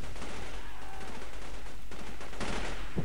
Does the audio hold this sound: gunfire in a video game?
yes